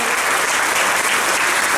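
Dense, steady applause from an audience at a community gathering, loud and continuous throughout with no voices rising above it.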